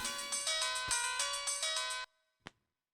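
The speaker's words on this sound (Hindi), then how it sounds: "लो, समीर अपना फोन भूल गया।" A phone ringtone plays a bright, repeating electronic melody for about two seconds, then stops abruptly, followed by a single short click.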